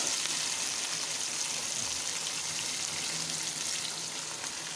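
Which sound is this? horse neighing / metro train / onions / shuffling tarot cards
onions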